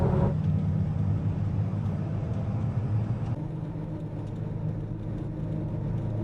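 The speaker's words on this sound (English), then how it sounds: "A lot of rattling, a lot of not so quiet cabin interior that we're in right now" A big old vehicle's cabin while driving, filled with a steady, heavy low rumble and road noise, with some rattling and no voices.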